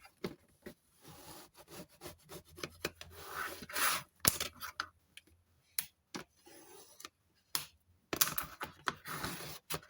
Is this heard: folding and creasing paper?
yes